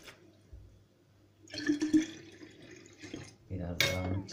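Homemade apple cider vinegar is poured in a home kitchen, giving a faint splashing, gurgling trickle with a couple of louder bursts of liquid, and someone speaks briefly near the end.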